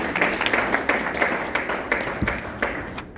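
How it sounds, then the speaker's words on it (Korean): An audience claps together in a room, the sound moderately loud and slightly uneven, with individual hand claps standing out before it thins near the end. "우리 다시 한번 뜨겁게 우리 박수 한번 해주시겠습니다"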